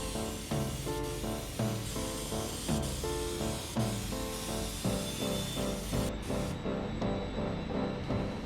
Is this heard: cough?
no